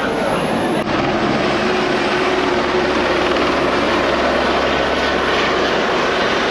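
Steady loud drone of a helicopter engine and rotor returning to a helipad at Sepang circuit during the Malaysian Grand Prix, continuous and fairly close throughout, with a faint voice partly buried beneath it.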